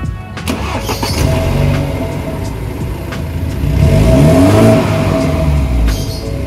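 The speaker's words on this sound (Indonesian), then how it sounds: "Sekarang kita nyalakan mesin." A 2015 BMW 330i M Sport F30 LCI starts up with a quick cranking catch, then the engine flares in a loud rev and settles back toward idle, heard close and alone without talk.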